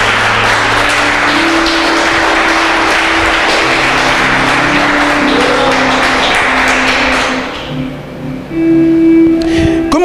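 Broad clapping from a church congregation fills the room along with sustained music, then thins out and fades near the end as the tones carry on.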